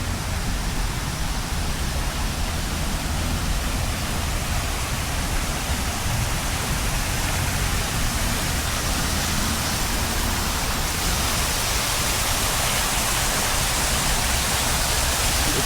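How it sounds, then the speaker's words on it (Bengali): A water fountain runs at a Dubai garden spot, giving a steady, dense rush of falling water that stays even and fairly loud throughout, with no voices over it. "দেখছো পানির ঝর্ণা, এটা অলরেডি রানিং আছে"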